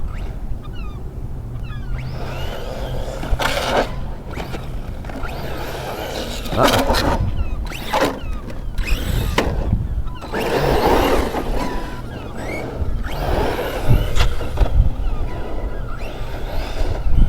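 An Arrma Kraton V2 and a Redcat Machete 4S, both stock 4S RC cars, run outdoors on grass, their electric motors giving a continuous loud whirring drone that surges and fades as they pass, with a brief voice in the background.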